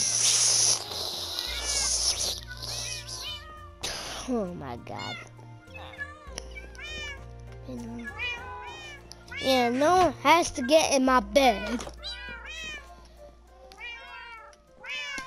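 Several indoor cats meow repeatedly, loud and close, some calls rising and drawn out, overlapping with a person talking throughout.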